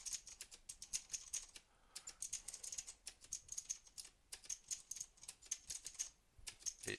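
Rapid bursts of keystrokes on a computer keyboard, close and crisp, clattering in quick runs broken by short pauses, with no voices.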